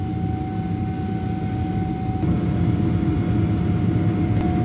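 A passenger jet takes off from Dubai, its engines giving a steady, loud, broadband roar heard from inside the cabin, building slightly partway through, with no talking.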